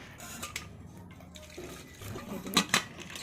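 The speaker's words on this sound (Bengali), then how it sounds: "একটু জল দিয়ে দিচ্ছি" Water pours into a pressure cooker holding potatoes, a short splashy gush in a kitchen with faint clinks of the pot around it, close by and moderately quiet.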